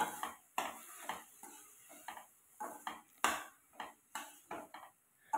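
Chopped tomatoes and onions are stirred in a pan for chapati side dish, with a spoon or spatula clattering and scraping against the metal in repeated bursts over a faint sizzle, close and without talk.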